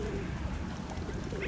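Pigeons cooing in a park with a lake, low soft coos over a steady outdoor background wash, no talking.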